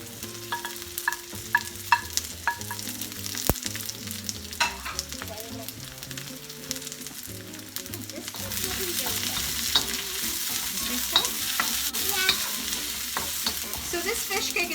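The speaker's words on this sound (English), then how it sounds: "So this fish cake is already cooked. You're just refrying it" Pre-cooked fish cake refried for chow mein, stirred in a pan with steady scraping and clinking of the utensil over a sizzle that grows louder partway through, with faint background music.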